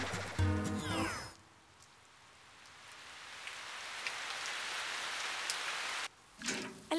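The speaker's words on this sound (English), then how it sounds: "A little rain. Perfect for the flowers." Steady cartoon rain hisses evenly for several seconds in a Go Jetters episode, falling between brief bursts of louder music and sound effects at the start and end.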